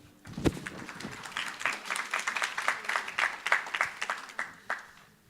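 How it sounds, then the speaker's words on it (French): Audience applause at a French federal congress plenary session, a moderate ripple of clapping from the hall that rises and then fades over a few seconds, with faint crowd murmur beneath. "Applaudissements"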